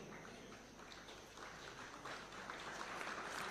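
An audience applauding award recipients at a Taxpayer's Day ceremony at State House, dense steady clapping that swells slightly louder toward the end, with no voices over it.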